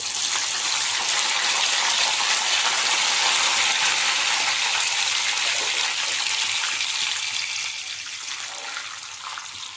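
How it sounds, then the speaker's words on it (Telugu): Dried red chillies, mustard seeds and curry leaves hit hot oil, producing a loud, dense hiss that holds steady and then eases slightly toward the end, with no voices. "ఇప్పుడు ఎండుమిరగాయలు, ఆవాలు, కరివేపాకు వేసేస్తున్నామండి"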